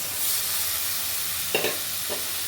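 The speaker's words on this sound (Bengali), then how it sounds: "এখন একটু ভালোভাবে নাড়িয়ে চাড়িয়ে দিচ্ছি এখন দিয়ে দিচ্ছি আলু আর দিয়ে দিব মাছ" Potatoes and baim fish being stirred in a frying pan, with a steady background sizzle and two or three short scraping stirs near the end, close and moderately loud.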